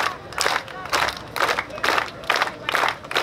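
A festival audience claps together in a steady rhythm, four loud bursts of clapping spaced evenly about every half second to second, with a crowd murmuring underneath.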